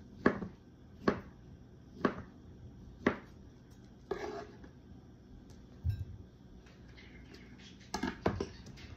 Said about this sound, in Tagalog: hihiwain naman natin ang ating hotdog para dumami naman